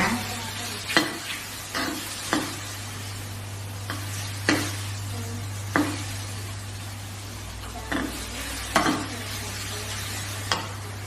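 Macaroni and sausage being stir-fried in a pan, a steady sizzle under repeated sharp clinks and scrapes of the utensil against the pan at irregular intervals.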